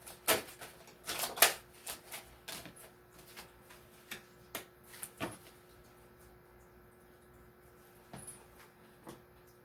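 Tarot cards are shuffled and laid down in a quiet room, sparse soft flicks and taps in uneven bursts, faint and close.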